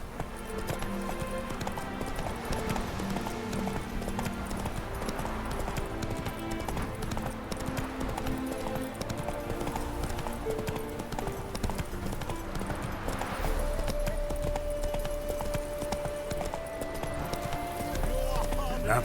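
Roach the horse gallops in the video game The Witcher 3: Wild Hunt. The hooves clip-clop in a steady, continuous rhythm throughout, under a constant wash of game sound.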